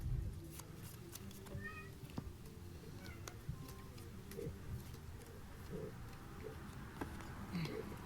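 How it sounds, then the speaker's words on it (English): A cat that has just woken whines in a few short, faint meows in the background of a quiet indoor room, heard alone without talk. "Sorry if you hear my cat whining here."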